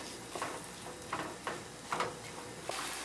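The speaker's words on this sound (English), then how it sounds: "So now we have a good steady sizzle going for our minced onions, minced garlic, and canned mushroom" Steady frying sizzle of minced onions, garlic and canned mushrooms in a pan, broad and hissy, with a few brief scraping stirs breaking through at irregular moments.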